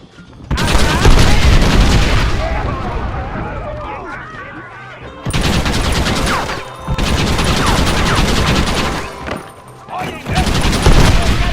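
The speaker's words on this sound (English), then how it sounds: "Use the cannon!" Cannon blasts and heavy gunfire in the video game Red Dead Redemption, a loud, dense fusillade of shots and booms in bursts with brief lulls, with shouting voices mixed in.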